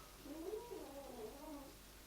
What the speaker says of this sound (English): you can hear the cat